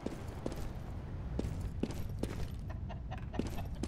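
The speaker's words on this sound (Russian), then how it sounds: "Курица, ты меня палишь." A chicken in Counter-Strike: Global Offensive clucks in short, repeated bursts amid faint game ambience and soft footstep-like clatter, at moderate distance.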